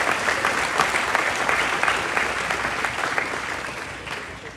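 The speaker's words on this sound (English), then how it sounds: "they certainly deserve a round of applause" Sustained audience applause for the volunteers at the Arizona National livestock show, a dense, steady wash of many hands clapping that fades slightly toward the end.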